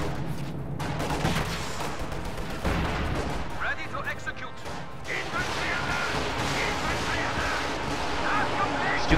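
Artillery barrage and gunfire in the Company of Heroes 2 video game, dense continuous booms, crashes and crackling shots rolling through the whole stretch, loud and close, with no voices.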